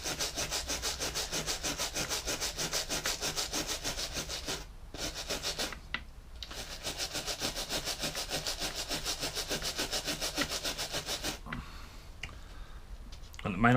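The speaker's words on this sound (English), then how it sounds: "So just give that a good clean. Get rid of some of this excess carbon that's on here." Rhythmic scraping and rubbing as carbon deposits are cleaned off a Kawasaki hedge trimmer, steady and close, continuing for most of the stretch with a couple of brief pauses.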